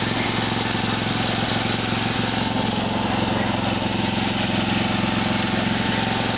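A small RC engine with a carburetor runs continuously at a steady, buzzing idle, loud and close without letup.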